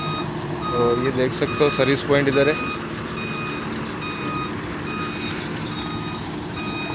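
A Tata Signa 5530 tipper truck reverses into a service bay, its reversing alarm beeping in a steady repeating pattern over the idling engine, with people talking loudly during the first few seconds.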